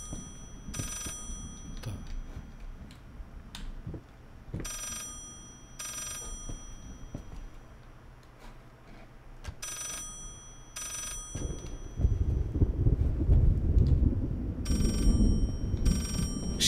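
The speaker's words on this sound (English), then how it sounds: "Is the phone still calling?" A telephone rings repeatedly in the horror video game Layers of Fear, its bell bursts spaced in a steady pattern over a low ambient drone that swells near the end.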